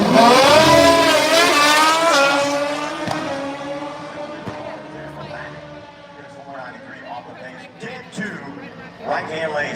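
A Pro Mod drag race car launches at full throttle at a drag strip, its engine screaming loudly and rising in pitch before fading down the track, with a commentator talking over it.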